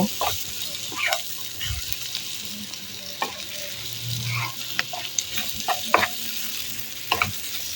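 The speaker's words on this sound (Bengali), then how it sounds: "ভালো করে নেড়ে চেড়ে আমি আরেকটু ভেজে নিব" Bitter gourd is stirred and fried in a pan, making a steady close sizzle broken by irregular scrapes and clicks from the stirring, without speech.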